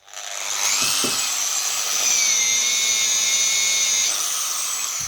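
A Vitals 125 angle grinder spins up with a high whine that dips and strains as it is pressed hard into material, staying loud and continuous throughout.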